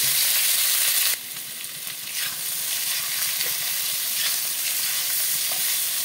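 Boiled potatoes stir-fried with whole cumin, a little mustard seed, curry leaves and slit green chillies for jeera aloo: a burst of loud sizzling that drops to a steady frying hiss with stirring, no speech.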